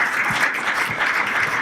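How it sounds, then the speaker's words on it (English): A crowd at a business talk claps briefly, a short even burst of applause heard close and alone. "Give it a clap."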